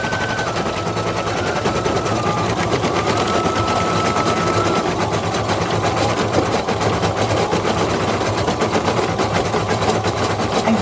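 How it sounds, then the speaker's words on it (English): An embroidery machine stitches the final stripe of a zebra design onto felt, giving a steady, loud, dense mechanical chatter of rapid needle strokes with a low motor hum underneath, continuing without pause. "it's going to stitch the last stripe"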